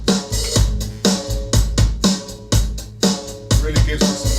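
A rock drum kit runs through an analog tape simulator plug-in, its steady groove of thick kick, cracking snare and cymbals sounding loud and close with extra weight at the bottom end, no talking.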